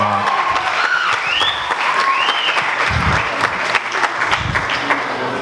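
Sustained applause from wedding guests at a reception during the best man's speech, dense and steady throughout, with whoops and a few cheers rising above the clapping.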